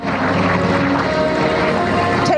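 A medium bomber at an airshow drones past with a steady, rough engine roar, loud and continuous throughout with some broadband wind-like noise.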